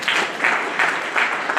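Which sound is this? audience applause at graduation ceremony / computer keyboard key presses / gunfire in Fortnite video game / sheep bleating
audience applause at graduation ceremony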